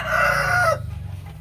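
A rooster on a chicken farm crows loudly and close by in one drawn-out call that cuts off abruptly, followed by a low rumbling background.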